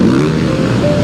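A dirt motorcycle engine drones loud and steady at the Weston beach race, its pitch climbing slightly as the rider works the bike free of a sandy rut, with faint background voices.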